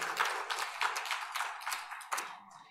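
A church congregation claps together during an Easter Sunday service, a fairly soft, steady patter of many hands heard from a distance that swells briefly and then fades out.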